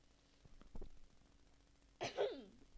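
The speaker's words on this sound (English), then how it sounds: "Got a cough in my throat." A person gives a few short throat-clearing coughs, then a louder, rougher hacking cough, heard close up in a quiet room.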